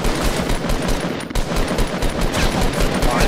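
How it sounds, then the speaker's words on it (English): Heavy automatic gunfire in a video game battle, loud and sustained with rapid overlapping shots and a brief dip midway. "More shots from the modern house way over there."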